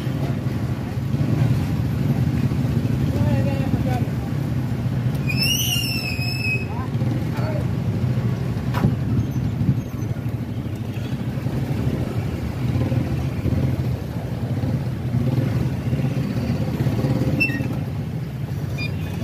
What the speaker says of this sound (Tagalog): Kaya matraffic dito, nandito rin ang Imos National High School.